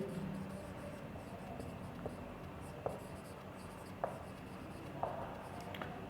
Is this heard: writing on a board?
yes